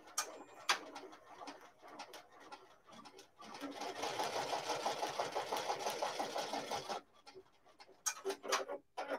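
Embroidery machine stitching an applique onto a beach bag, giving a steady rapid mechanical chatter for a few seconds that then stops and leaves quieter room sounds and a few clicks.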